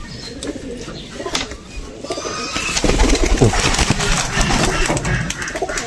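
Caged pigeons coo repeatedly at close range, with rustling and clattering in the cages around them.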